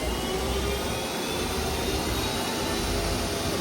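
A 2008 HURCO TM-10 CNC lathe spindle spins up, producing a steady, loud broadband whir and whine that holds continuously at high speed without any voices.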